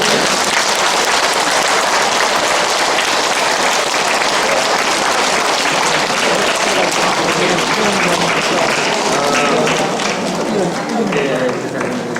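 Loud, dense audience clapping fills a gathering at a martyrs' shrine, with steady hand claps throughout and voices mixed into the crowd noise.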